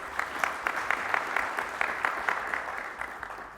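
An audience at the National Petroleum Conference gives a warm round of applause, the many hands forming a steady wash with faintly pulsing peaks throughout.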